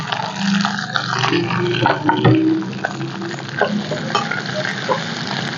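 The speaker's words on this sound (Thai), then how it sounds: "กุ้งลงไปผัดนะคะ" Shrimp are stir-fried in a pan for a Thai glass noodle clear soup, producing a loud, close sizzle with scraping and stirring noises and a brief louder burst midway.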